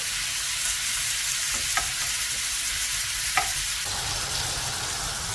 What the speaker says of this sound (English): Obviously it's got its own fat, so it's going to cook in that. So get this nice and browned up.